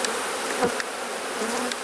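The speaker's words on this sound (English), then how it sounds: "there's so many bees going nuts" Agitated honey bees swarm an open hive frame being fed a pollen patty, their dense, loud buzz filling the air close by with a brief louder pass near the microphone, no voices.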